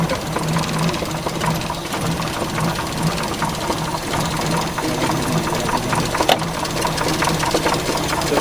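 A 1938 Citroën Traction Avant 11BL engine runs with a fairly quiet, busy mechanical clatter of rhythmic ticking and whirring. The sound is steady throughout and has no voices over it.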